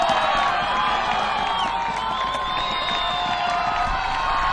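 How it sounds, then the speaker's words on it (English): Beach volleyball crowd at a Sand Series Classic event in Brasília roars and cheers continuously, a dense, loud wash of shouting and whistling voices for their team. "the crowd going crazy for their team"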